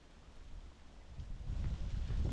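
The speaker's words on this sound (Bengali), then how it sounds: "এত বাতাস এখানে।" Strong wind blows across an exposed hilltop by an old castle some 820 feet up, rumbling low and buffeting the microphone, building louder toward the end with no talk.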